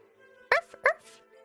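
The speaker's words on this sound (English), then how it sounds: "You hear it barking behind you." A dog barks twice in quick succession, two sharp, fairly loud yelps from a short distance against a quiet background, with no one talking.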